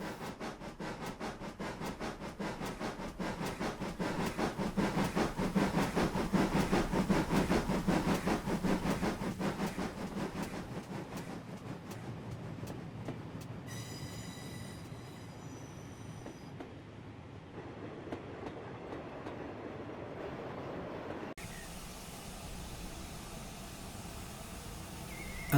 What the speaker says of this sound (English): On an autumnal afternoon, the Quantock Bell dining train heads out from Williton.